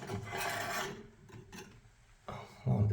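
A small screwdriver pries around the edges of a Delta double shower head part, giving faint raspy scraping that comes and goes in short bursts, ending in a soft low clunk.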